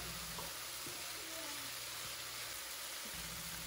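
Chicken and zucchini cooking in a pan, a faint steady sizzle with a few soft stirring scrapes, quiet and continuous with no talking.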